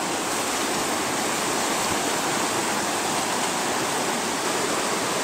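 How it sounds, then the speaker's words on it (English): Water pours steadily into a 3-foot River Bed Hog sluice, breaking over a rock placed to diffuse the flow, giving a loud, continuous broadband rushing like a small waterfall, with no speech. "I put a rock right here to diffuse this water so it's not blowing things out."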